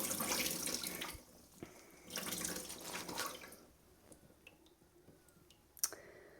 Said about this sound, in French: je fais un dernier rinçage